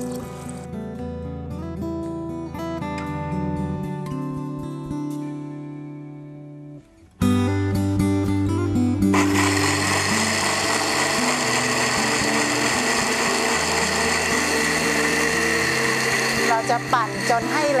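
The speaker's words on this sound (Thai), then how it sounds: "ช่วงแรกเนี่ยที่เราจะทำการปั่นเนี่ยเราจะเติมน้ำลงไปเพียงแค่ให้ท่วมวัตถุดิบ" After a stretch of tonal background sound, a blender starts up on germinated brown rice and soybeans covered with water, its motor kicking in abruptly and then settling into a loud, continuous whirring grind that lasts to the end.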